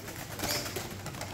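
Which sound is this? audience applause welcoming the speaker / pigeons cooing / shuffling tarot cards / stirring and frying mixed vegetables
pigeons cooing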